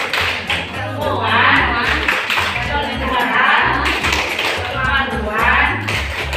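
A group performs the P2K2 rhythmic clap routine, patterned bursts of hand claps and taps in repeating phrases, fairly loud and close, mixed with chanted voices keeping time.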